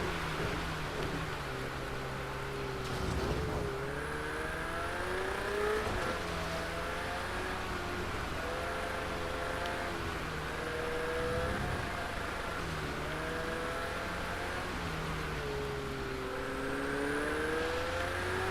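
A car drives through water and mud in a video game, its engine repeatedly rising and falling in pitch as it shifts through gears under a steady wash of road and spray noise, with no voices.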